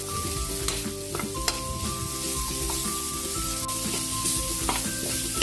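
Garlic and onion sizzle loudly and steadily in a frying pan, with scraping stirring noises and occasional clicks of a utensil against the pan.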